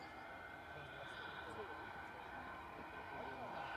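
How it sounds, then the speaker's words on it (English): A small jet aircraft at Manchester Airport sounds as a steady, distant broadband engine roar that holds level throughout, with faint voices in the background. "Here's the little jet."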